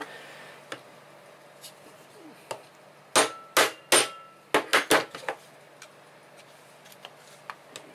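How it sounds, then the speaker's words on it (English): Several sharp metallic taps from hammering a pin out of a WE Glock G17 replica pistol ring out in two quick bursts, three strikes then a faster cluster, with lighter ticks scattered before and after. "you will have to hammer on this side because the rough side of the pin is on here"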